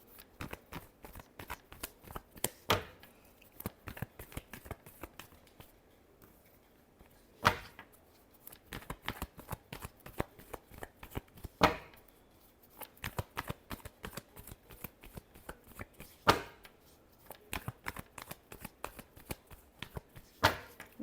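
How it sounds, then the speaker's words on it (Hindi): Tarot cards are shuffled by hand in a long run of faint, rapid riffling and flicking, with sharper slaps now and then, close up and without talk. "last shuffle"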